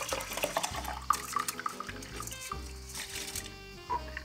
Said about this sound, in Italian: Questa è la pentola dove noi andiamo a recuperare l'acqua, e qui rimane il riso. Andiamo a colarlo.